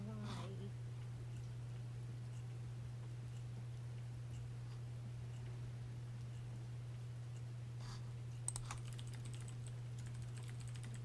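Typing on a computer keyboard: soft, irregular key clicks at low level over a steady electrical hum, with a denser burst of taps near the end and no one speaking.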